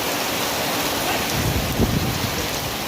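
Steady, dense heavy rainfall pours down on Daddi village throughout, a continuous loud hiss with a low rumble swelling briefly near the middle.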